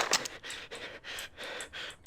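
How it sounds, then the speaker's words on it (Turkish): A Max Payne game character panting heavily, about five rhythmic breathy gasps in a row, close and fairly loud, with no talking. "Şuraya bak köpek gibi nefes alıyor."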